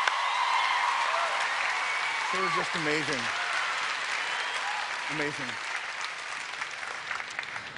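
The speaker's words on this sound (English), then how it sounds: "Can we just give him another big round of applause?" Studio audience applause on a televised singing competition, a broad wash of clapping and cheers that runs throughout at a steady level while someone speaks briefly over it.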